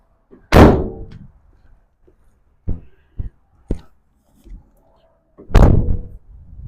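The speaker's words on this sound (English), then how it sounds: "we can just bring these doors closed." Two heavy door slams of a 2024 Ram ProMaster 3500 high-roof cargo van, several seconds apart, with smaller clunks and latch clicks between them, close and echoing briefly.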